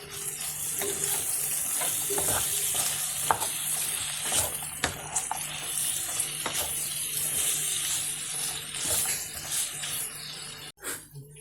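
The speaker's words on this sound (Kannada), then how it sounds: "ಅರ್ಧ ಟೀ ಸ್ಪೂನ್ ಅಷ್ಟು ಶುಂಠಿ ಬೆಳ್ಳುಳ್ಳಿ ಪೇಸ್ಟ್ ಹಾಕ್ಕೊಂಡು ಇದರಲ್ಲಿ ಫ್ರೈ ಮಾಡ್ಕೊಳ್ಳಿ" Ginger garlic paste fries in a pan with a steady, bright sizzle throughout, broken by occasional scraping stirs close by.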